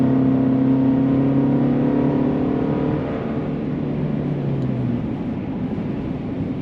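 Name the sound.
2023 Chevy Colorado Trail Boss 4-cylinder engine accelerating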